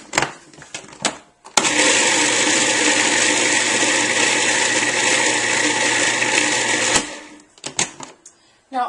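A food processor runs for about five seconds on oat groats, a loud, dense whirring grind that starts and stops abruptly, with brief handling clatter and speech before and after.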